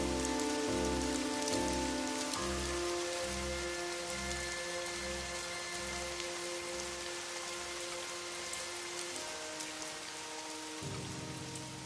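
Steady rain falls on a surface in a cold-weather downpour, a dense continuous hiss with a low rhythmic pulsing underneath for most of the stretch, heard alone without any voices.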